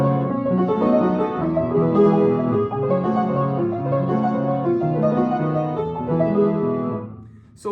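Solo piano plays the B section of a piece, a steady stream of sustained chords and melody notes at moderate loudness, continuing without pause before fading near the end.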